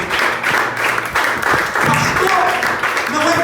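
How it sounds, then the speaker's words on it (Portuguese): A church congregation claps together in a steady rhythm, the clapping running under a voice that keeps talking over it throughout. "As palmas podem ser mais fortes para Jesus nessa noite."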